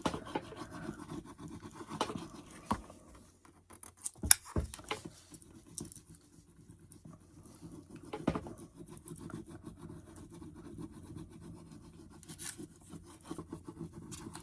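Quiet scratchy rubbing and light tapping as a transfer is burnished onto a slick painted clipboard, with irregular soft strokes and a few sharper knocks.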